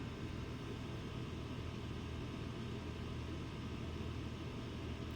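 A small AFX slot car runs on its track with a steady, faint, slightly noisy motor whir.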